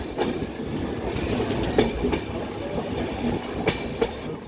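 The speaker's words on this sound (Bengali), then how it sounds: "সেবন স্টেশনটা পার করে যাচ্ছি এখানেও ট্রেন হল্ট করবে না বললাম" A moving train rolls through a small station near Hasimara without stopping, heard from inside the carriage as a steady rumble with rhythmic wheel clicks over the rail joints, and no talking.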